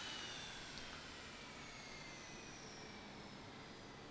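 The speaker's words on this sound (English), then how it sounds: "We'll turn off the engines" Twin jet engines of a Leonardo M-346 trainer in a flight simulator game spool down after shutdown, a steady broadband roar with a faint high whine slowly falling in pitch, with no talk.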